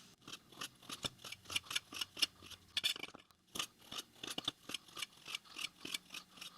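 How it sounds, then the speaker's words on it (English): Bread slices being cut into cubes with a knife, a steady run of quick, close crisp cuts with a brief pause midway. "Just get those slices of bread cut into a whole lot of cubes."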